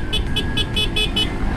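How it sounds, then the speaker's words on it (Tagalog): Horn of a Suzuki GSX-R150 motorcycle beeping six times in a quick, even series of short, bright toots, loud and close over a constant engine and road rumble. "Narinig niyo ba yung busina niya?"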